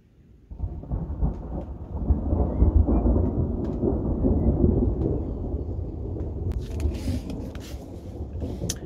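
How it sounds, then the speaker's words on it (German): Thunder rolls and rumbles for several seconds during a night thunderstorm at a riverside carp-fishing camp on the Danube, starting abruptly and staying loud and deep, with rain and some crackling near the end. "Bin mir sicher, dass gleich der nächste Blitz wieder kommt und Donner."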